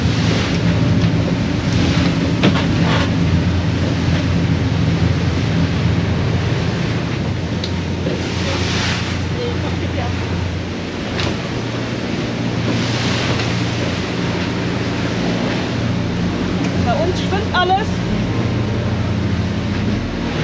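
Waves and spray wash against a small boat out on the water in the Netherlands, a continuous rushing surf with wind buffeting the microphone and occasional louder splashes, heard close and loud with no talk.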